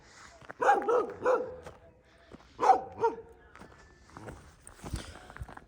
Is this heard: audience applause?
no